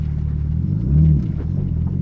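Low engine rumble from an RB25-swapped Nissan 200SX during a slow U-turn, steady at first with a brief swell in revs around the middle before settling back to a low drone.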